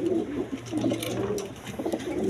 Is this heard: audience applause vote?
no